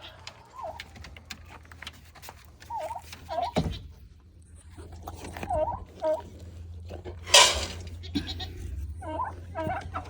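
Goats bleat in a farmyard where turkeys are also kept, with several short bleats spread out at a moderate distance over steady background noise and an occasional gobble-like call.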